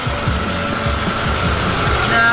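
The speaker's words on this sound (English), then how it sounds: "I don't know if you can hear me over that tractor moving." A farm tractor engine runs close by and loud as the tractor moves, a steady low rumble with a rhythmic knocking pulse throughout.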